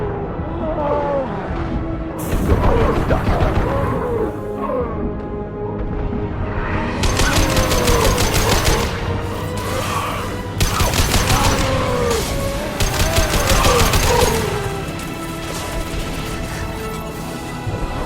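Bursts of rapid gunfire crackle in a Mass Effect 2 Legendary Edition battle, loud volleys repeating across the scene with shouted combat voices mixed in.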